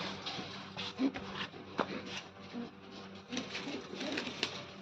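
Pigeons coo in a low, steady murmur close by, with soft rustling and a few flutters throughout.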